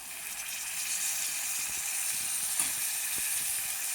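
Half a kilo of minced keema frying in a pan with ginger garlic paste gives a steady hissing sizzle, broken by scattered soft scraping and stirring taps.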